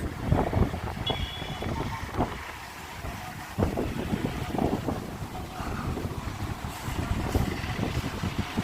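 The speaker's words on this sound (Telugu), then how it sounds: "బాగా గాలి వస్తుంది" Strong outdoor wind roars and buffets the microphone in a continuous, gusting rush, loud and steady throughout with no clear talk.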